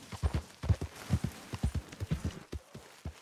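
Horse hooves clip-clopping at a steady walking rhythm in Red Dead Redemption 2, a string of close, distinct thuds over about three seconds with no talk.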